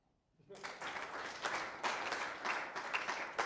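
An audience at a talk on the brain and Where's Waldo breaks into clapping after a moment of silence, a dense patter of many hands that swells in uneven waves and keeps going.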